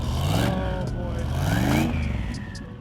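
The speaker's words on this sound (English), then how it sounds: "We heard him fire it up, and then we heard him rev it." A V8 muscle car engine revs in several rising and falling pulls, loud and fairly close, at a race day, with background noise around it.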